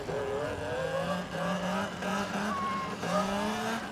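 A Talaria xXx electric dirt bike pulls a wheelie on a first ride, a steady close whining motor hum with rising and falling electric pitch sweeps and constant background noise.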